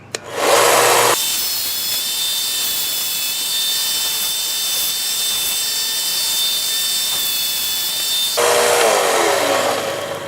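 Power sanding of epoxy mixed with scrap brass on 400 grit sandpaper, a loud steady whirring hiss that starts abruptly, runs evenly for several seconds and briefly rises in pitch before stopping.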